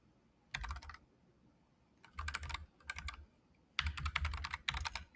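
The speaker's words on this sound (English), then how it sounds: "when you start typing these things in multiple times" Computer keys clatter in three quick bursts of fast typing separated by short pauses, close and fairly quiet, with no talk.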